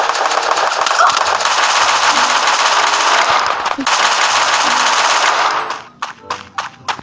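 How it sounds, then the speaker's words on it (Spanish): Sustained rapid gunfire in the Free Fire video game, dense and loud for several seconds, then breaking into a few scattered shots as it fades out, with a voice faintly underneath. "¡Me está disparando!"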